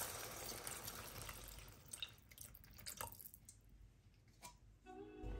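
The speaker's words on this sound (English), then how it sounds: "Now we'll add some water." Water pours in a continuous stream into a pot of vegan tomato soup, then tapers into a few drips and splashes, close and fairly quiet.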